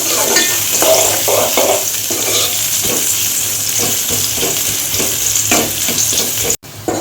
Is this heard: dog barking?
no